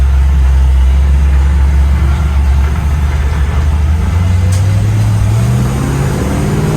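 A 1948 Ford Delivery Wagon pulls away in first gear, its loud, steady engine drone climbing gradually in pitch as the vehicle accelerates, with no voices over it.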